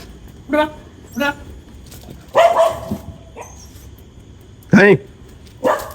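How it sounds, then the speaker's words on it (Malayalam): A dog barks in short, sharp bursts, five or so spaced over several seconds, fairly close, with people talking nearby. "വേറെ നായ കണ്ടിട്ടാ കനി"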